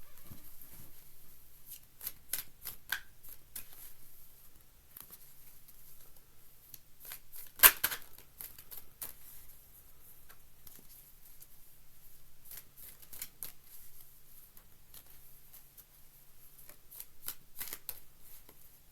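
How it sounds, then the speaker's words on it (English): Tarot cards are shuffled by hand in a quiet room, producing repeated soft riffling and flicking bursts in irregular runs over nearly twenty seconds, with one sharper slap in the middle. "Let's shuffle the cards."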